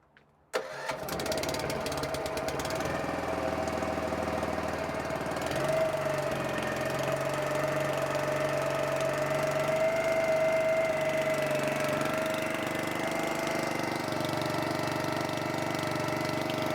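A lawn spray truck engine cranks and catches, then settles into a steady, loud mid-pitched idle that runs on continuously, close by.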